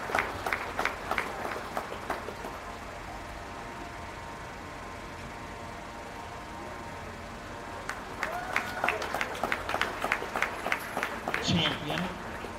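Crowd applause at a county fair beef show, honoring young exhibitors with bucket and bottle calves; bursts of clapping open and close the stretch, with a steady crowd murmur and a voice over the middle.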